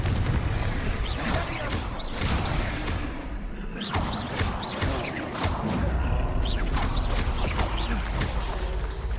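Confringo and Bombarda spell blasts from Hogwarts Legacy, a string of sharp explosive bursts and crackling impacts landing every second or so over a constant rumbling background.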